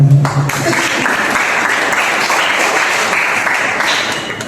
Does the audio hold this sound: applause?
yes